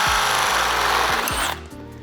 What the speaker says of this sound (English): Grab the size of the drill bit that you used to drill the hole for that riv nut, and then just carefully start drilling.